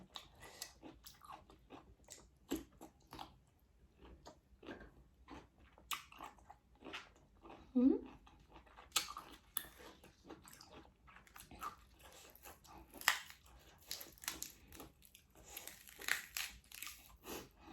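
Close, quiet biting and crunching while eating a spicy Thai pounded intestine salad with bitter melon, with scattered crisp crunches and chewing and no speech.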